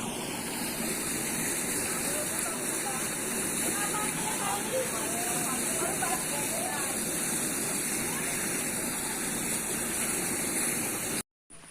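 Floodwater pours into a yard in rural Assam with a constant, fairly close roar of rushing water, and people can be heard talking faintly underneath.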